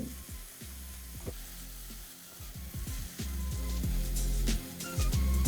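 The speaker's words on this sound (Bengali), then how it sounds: "দিয়ে দিন একটা পেঁয়াজকে এইভাবে কুচিয়ে নিয়ে ব্যাস তারপরে এটাকে ভালো করে একটু ভেজে নিন" Chopped onion, garlic, ginger and dried chillies frying in hot oil over high flame: a continuous crackling sizzle that swells louder toward the end, with occasional clinks of a spoon stirring, close-up and with no talk.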